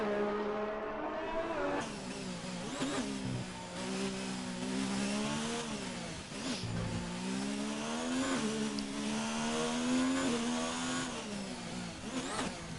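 F1 race cars on warm-up laps at the Singapore Grand Prix in a racing sim: high-pitched engines whine continuously, rising and dropping through gear changes as the cars run nearby at a steady, moderate level.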